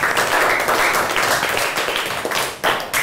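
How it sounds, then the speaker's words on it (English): Applause from a class of young pupils during an English lesson: a burst of many hands clapping steadily for about three seconds at fairly close range, dense and continuous with small swells. "Give a big clap to him."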